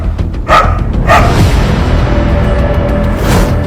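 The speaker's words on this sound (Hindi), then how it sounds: "शहर में आवारा कुत्ते बन रहे खूंखार।" Stray dogs in a city bark loudly and close by: two sharp barks in quick succession, then a third after a pause, over a rumbling background.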